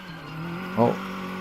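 A race car's engine drones steadily in a mountain pass racing video game, then a brief squeal of tires as the car slides, loud and close, with no talk.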